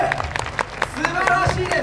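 Applause from a crowd at the YOSAKOI Sasebo festival's Yamagata venue in Japan, with scattered claps running under a voice speaking over a loudspeaker.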